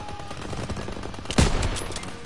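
Gunfire rattles through a Call of Duty WWII beach assault against a hayloft machine-gun nest, a steady dense clatter with one sharp, louder burst midway, no voices.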